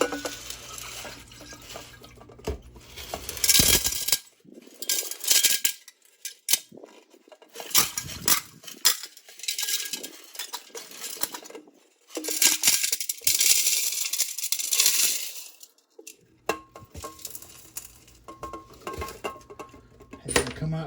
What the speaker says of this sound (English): Pour it in this beaker now, carefully.